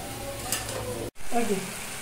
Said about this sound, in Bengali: লাল শাক বসিয়ে দিচ্ছি।